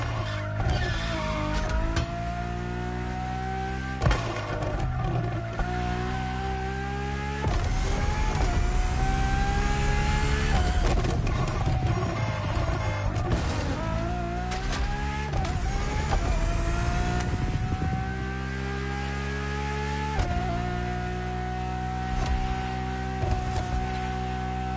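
A Ferrari road-legal Formula One car in the racing game The Crew, its engine loud and close, climbing through repeated revving pitch sweeps and gear shifts over a steady drone, with no talking.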